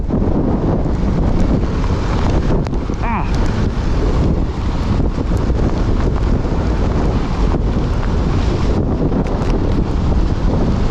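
Storm wind roars constantly against a rider on a Kawasaki Ninja motorcycle, a loud, unbroken buffeting rush across the whole stretch with a faint brief sound partway through.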